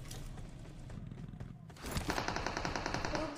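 Rapid automatic gunfire in the mobile battle-royale game BGMI, a steady rattling burst that grows louder and denser partway through, heard alone without speech.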